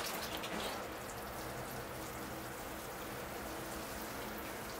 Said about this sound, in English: Here I go with the water.